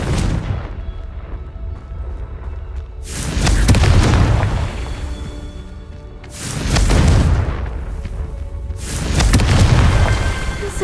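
Three heavy booming blasts from the Confringo explosion spell in the Hogwarts Legacy video game, each a loud low-frequency burst that swells and fades over a couple of seconds, spaced roughly evenly apart over a faint ambient game backdrop.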